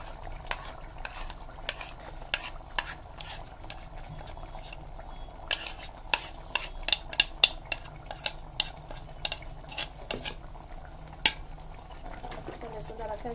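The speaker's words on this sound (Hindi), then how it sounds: "अब इसमें ये पेस्ट मिला देना है, काजू बादाम फल्ली सब मसाले।" Spice paste of cashew, almond and peanut being stirred into cooked mutton and yogurt for Hyderabadi mutton khorma, with soft scraping, sizzling and spoon clatter in an irregular rhythm at close range, and no talk.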